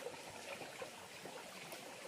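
Water runs through a dug irrigation channel, a faint, continuous trickling and burbling with small splashes in a quiet outdoor setting, and no voices.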